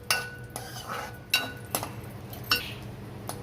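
Cashews roasting in a pan as a spoon stirs them, giving several sharp metallic clinks and scrapes at an irregular pace over a low background hum.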